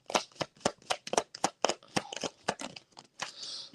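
Tarot cards shuffled by hand in a series of quick crisp riffling bursts, about a dozen sharp slaps in irregular rhythm, close and clear with no talk.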